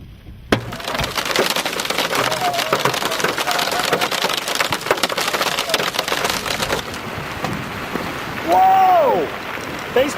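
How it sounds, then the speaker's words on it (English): Baseball-sized hail falls during a storm chase, a dense, loud clatter of stones pounding the vehicle for several seconds and then easing. A voice cries out near the end. "Baseball hail."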